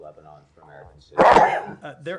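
A single sharp sneeze bursts out loudly in a government press briefing room, interrupting a reporter's question and followed by more talking.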